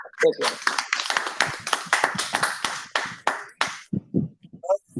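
An audience at a Toastmasters club meeting claws out a burst of rhythmic clapping, steady and fairly loud up close for about four seconds, then fades into scattered claps as a voice speaks over the end.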